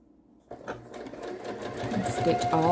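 A sewing machine stitches quilt pieces together, starting up after a brief pause into a quick, steady mechanical whir that grows slightly louder, close by, while a person talks over it.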